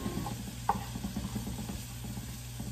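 Onions and garlic sautéing in heated butter for Filipino-style spaghetti, a soft, steady sizzle with light stirring clicks and one sharper scrape of the utensil against the pan, close and quiet.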